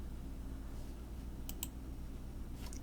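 A computer mouse clicks faintly in an Excel spreadsheet, a couple of quick sharp clicks close together, then another pair near the end, over a quiet low hum.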